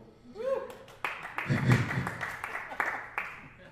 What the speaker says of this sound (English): That was a slow, sarcastic applause, you guys.